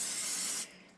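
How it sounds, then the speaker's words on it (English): Butter-flavored cooking spray hisses from a can over layered phyllo dough topping a crab rangoon bake, one steady close burst lasting about half a second before cutting off abruptly. "I'm going to layer heavily the butter spray over it"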